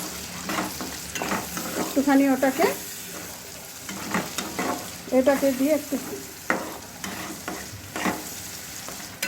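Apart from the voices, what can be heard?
tomato paste frying and being stirred in a pan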